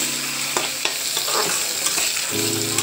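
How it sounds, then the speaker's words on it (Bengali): Basmati rice for a chicken biryani being stir-fried in a pan, with quick spatula scrapes and stirring over a steady sizzle, close and without speech. "চালটাকে আমরা আস্তে আস্তে 10 থেকে 15 মিনিট এইভাবে করে নাড়িয়ে নাড়িয়ে ভাজতে হবে"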